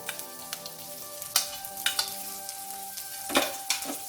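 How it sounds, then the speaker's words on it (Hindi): Mushrooms, chopped garlic, ginger and onion fry over a low flame in a kadai, a soft sizzle broken by several sharp scrapes and clinks of stirring. "अब इन सारी चीजों को 1 से 2 मिनट तक लो फ्लेम में फ्राई करेंगे"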